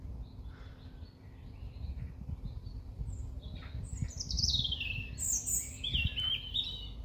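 Birds chirp and tweet in quick high bursts on the Stirling University campus, growing livelier toward the end, over steady outdoor rumble and low background noise.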